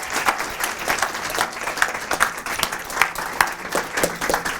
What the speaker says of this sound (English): I just want to say another round of applause for both of you.